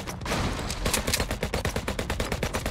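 Rapid bursts of gunfire from the HyperParasite video game as the player shoots at an enemy, loud repeated shots in a steady stuttering rhythm with a dense sustained layer beneath.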